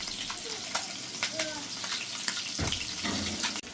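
Chopped green chilies sizzle and crackle in hot oil in a pan for an egg and fenugreek leaf curry, a loud steady frying hiss with a few clinks and a brief voice beneath.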